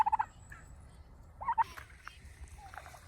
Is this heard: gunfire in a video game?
no